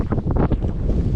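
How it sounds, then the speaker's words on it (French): Cold wind buffets the microphone outdoors in Swedish Lapland, a loud, continuous rumbling blast with gusty swells throughout and no speech. "Il fait froid et avec un gros défaut, c'est qu'il y a du vent."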